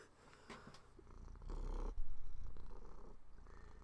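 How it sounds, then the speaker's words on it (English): Little Fluffy the cat purrs close by outdoors in the snow, a soft, steady low rumbling that swells and pulses rhythmically for a few seconds. "For those who are listening carefully, you'll hear a cat purring."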